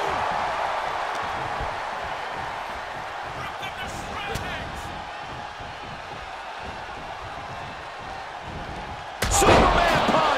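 In WWE 2K24, a wrestler slams an opponent face-first onto the mat, one heavy thud near the end cutting through steady crowd roar while a commentator talks throughout.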